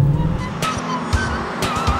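A 457-horsepower car accelerates, its engine note loud and near with a few sharp shifts or bursts breaking the steady roar across two seconds.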